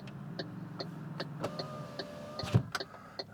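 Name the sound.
MG4 car electric windows operating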